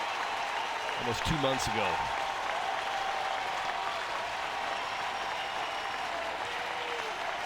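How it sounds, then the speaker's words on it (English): A crowd at a Tennessee college baseball game gives a sustained ovation, steady dense clapping and cheering filling the whole stretch, with a commentator briefly speaking over it near the start. "I also got to believe Coach Vitello just wants to give him the ovation that he deserves"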